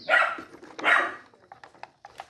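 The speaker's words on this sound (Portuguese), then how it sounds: "E o cachorro latindo ali, o Scooby." A dog barks twice in loud close bursts, then gives a few softer yips and whimpers, recorded outdoors among potted adenium cuttings.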